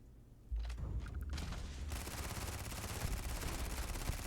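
Gunfire against security bots in the Starfield video game: a few quick shots open, then a dense, sustained volley of rapid automatic fire, loud and continuous throughout.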